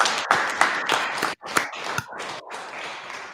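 Scattered hand claps from a small group joining in virtual applause for Rebecca, several close irregular claps over a few seconds with a brief gap midway, no talking.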